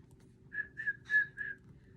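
Four short whistled notes at a steady pitch, evenly spaced, over a low background rumble, with the third note slightly louder.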